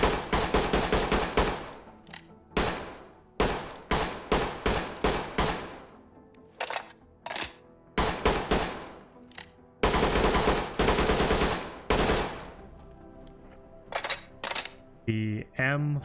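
Rifle fire from an H&K G36C and an AK-101 in the tactical shooter Ready or Not: loud, close bursts and rapid single shots in quick repeated volleys, with short pauses between strings and no voices.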